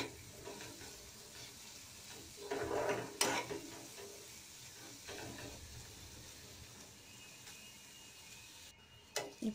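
Cumin paste fries in a pan and is stirred, with a quiet steady sizzle and a few louder scraping stirs in short bursts.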